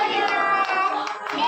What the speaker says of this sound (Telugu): ఆ తర్వాత గట్టిగా చప్పట్లు కొట్టాము